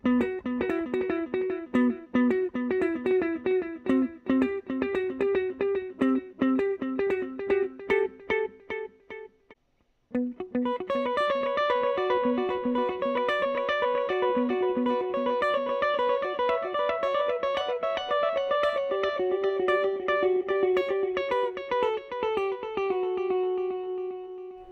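An electric guitar played through a Joyo IronMan effects pedal gives a distorted, reverberant run of picked notes. The notes break off near the middle, then resume and ring out into a lingering echo, with no talking.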